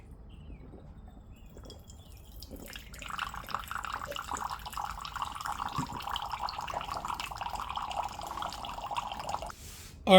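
A reverse osmosis home water filter system running a flush cycle, with a steady trickling rush of water and faint drips, quiet at first, then flowing continuously before a brief louder knock at the end.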